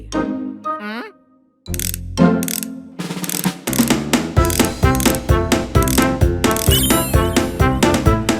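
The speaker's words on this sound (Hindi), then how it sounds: "राइट के 4 स्क्रू खोलने हैं।" Cartoon scene of four screws being unscrewed, heard as a loud, rhythmic run of ratcheting clicks and mechanical turning noises after a short musical flourish, with sparkly effects near the end.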